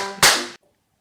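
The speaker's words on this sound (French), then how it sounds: "Alors on va tous faire des pétards dans la cuisine." A firecracker set off in a kitchen for Purim: one sharp, loud bang that rings briefly with a bright, crackling tail and then cuts off into silence.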